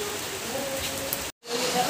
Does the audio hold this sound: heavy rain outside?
yes